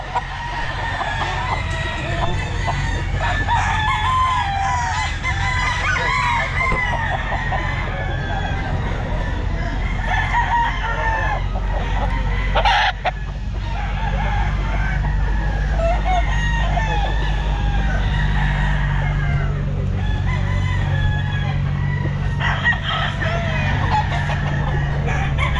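Red Kelso gamefowl roosters crow repeatedly at a busy pet market, their loud calls overlapping amid clucking, crowd chatter and a steady low rumble of background noise.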